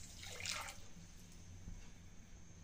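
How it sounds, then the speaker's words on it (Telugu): Half a glass of water is poured into sugar in a pan to make syrup for badusha sweets, a quiet, brief splash early on followed by a faint, soft trickle. "ఇప్పుడు ఇందులో 1/2 గ్లాస్ వాటర్ని యాడ్ చేసుకోవాలి."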